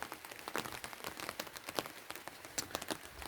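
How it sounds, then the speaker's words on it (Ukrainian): Rain that has fallen all day patters steadily on outdoor surfaces, a soft, dense crackle of drops with scattered louder taps, faint and continuous with no voices. "Дощ цілий день не перестає"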